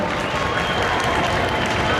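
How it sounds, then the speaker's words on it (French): An audience at the French Mario Kart 7 championship final at Japan Expo 2012 applauds the finalists in a dense, continuous wash of clapping and crowd noise, loud and steady. "Allez, on les applaudit, on les encourage"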